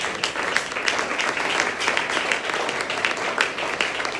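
A church congregation claps and applauds in a steady, dense patter that continues at an even level throughout, with no voices standing out.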